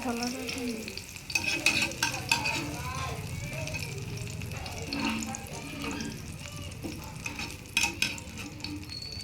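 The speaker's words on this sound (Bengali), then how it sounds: "কীরকমভাবে আমি বিনসগুলোকে ভেজে তুলে নিলাম" Green beans fry in a pan, a continuous close sizzle with frequent scraping and clattering stirs, plus a faint running-water wash in the background.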